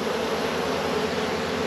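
Honeybees hum in a steady, close, even drone around a newly set-up hive in a New Zealand apiary, with no voices over the buzzing.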